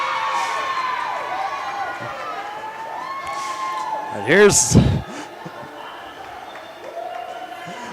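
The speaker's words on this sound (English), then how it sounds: "more cheers from this crowd here in Boulder" Crowd cheering at a Colorado Buffaloes ACHA Division 1 hockey game against the Denver Pioneers in Boulder, a steady roar that swells briefly with a loud burst, while an announcer talks over it.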